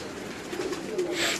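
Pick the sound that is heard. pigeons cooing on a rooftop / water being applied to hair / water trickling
pigeons cooing on a rooftop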